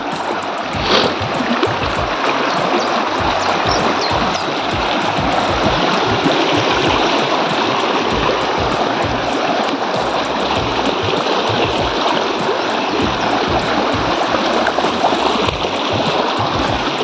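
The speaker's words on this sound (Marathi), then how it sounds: "पाण्याचा आवाज खूपच मस्त वाटतो, रिफ्रेशिंग असतो." Glacier-fed mountain stream running full in summer on the route from Nubra to Turtuk in Ladakh, a steady, loud rush of flowing water that holds evenly throughout with no voices.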